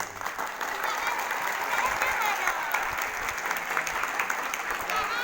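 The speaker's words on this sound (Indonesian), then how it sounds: "Tepuk tangan untuk MI." A crowd applauds continuously, dense clapping that stays fairly even in loudness from start to finish, with some voices mixed in.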